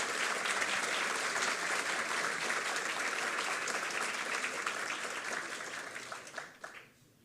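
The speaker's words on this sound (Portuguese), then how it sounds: "Recebam com aplausos" Sustained applause from an audience at a formal award ceremony, a dense, steady clapping that carries for several seconds before tapering off into scattered claps and quiet.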